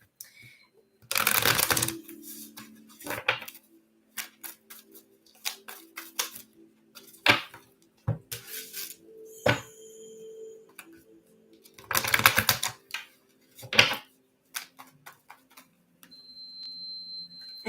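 Tarot card decks are shuffled close up in quick irregular bursts of riffling and flicking, with softer taps and slides of cards between the louder flurries.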